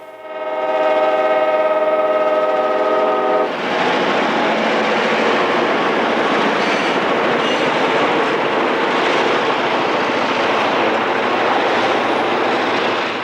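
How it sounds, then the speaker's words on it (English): An Illinois Central diesel freight train led by a GP10, GP11 and GP38 rumbles past loudly, its horn sounding at first before giving way to a continuous roar of engines and rolling wagons. "GP10 number 8126 leads a GP11 and a GP38 on East St. Louis to Centralia train ESC."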